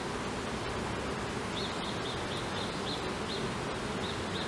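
Honeybees hum in a dense, even drone inside a swarm trap, steady and close with no pauses, a few individual buzzes rising faintly above the mass.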